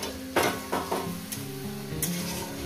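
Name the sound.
okra fish curry masala with tomato sizzling in pan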